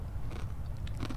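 Crunchy bitter gourd chips (kripik pare) are bitten and chewed close up, giving a few quick crisp crunches over about a second, with no talking.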